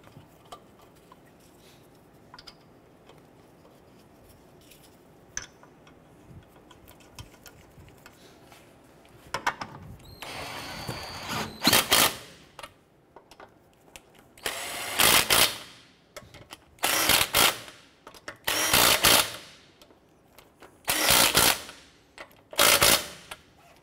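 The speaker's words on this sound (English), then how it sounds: "Once these are all on, I'm going to go ahead and snug them down." An impact tool rattles in several loud bursts as lug nuts are snugged down on a 2008–2012 Honda Accord front wheel, following quiet ticking and handling sounds.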